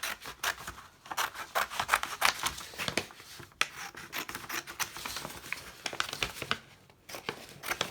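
Scissors cutting out paper for a craft project, a close series of quick snipping and rasping strokes in irregular bursts with brief pauses, no talk.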